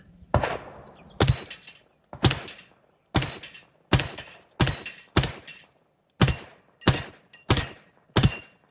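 Eleven sharp, loud gunshots from a Glock pistol firing 185 grain .45 ACP reloads, spaced roughly one per second in a steady rhythm, each crack trailing off with a brief echo, no voices between them.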